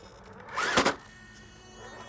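A Vanquish VS410 Pro crawler's hull sliding and scraping across the ground in one short, gritty rasp that swells and fades within a second, close by.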